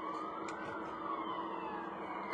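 Ambulance siren wailing as it passes along a street, a steady two-tone cry that gradually falls in pitch, moderately distant and faint over traffic hum.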